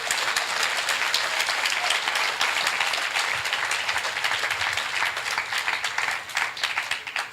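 A church congregation at an Assemblies of God service in Caracas claps hands in praise. The clapping is dense, loud and continuous, with a rhythmic pulse running through the whole stretch.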